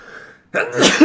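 A single sharp sneeze bursts out close and loud after a brief quiet pause, preceded by a faint cough-like breath, during a Rainbow Six Siege gameplay commentary.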